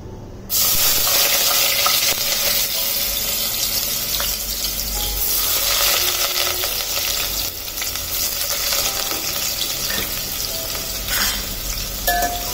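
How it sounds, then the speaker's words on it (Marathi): Chopped onions sizzle and fry steadily in hot oil in a pan for a village-style spicy chicken gravy, with occasional stirring scrapes over a continuous crackle and no talking. "आता हा कांदा छान परतून घ्यायचा आपल्याला, लाल करायचा आहे."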